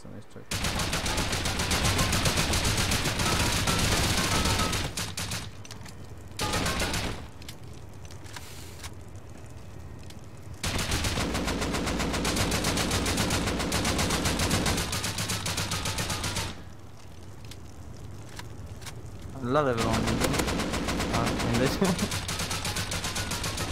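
Gunfire rings out in the survival video game Rust: loud, dense stretches of shots broken by short gaps. Voices can be heard faintly alongside.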